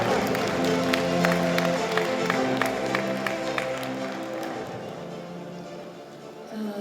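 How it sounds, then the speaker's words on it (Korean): Audience at an APEC summit hosting forum gives a big round of applause welcoming a speaker, a broad wash of clapping with some sharper claps, softening over several seconds. "큰 박수로 다시 한번 환영해 주시기 바랍니다."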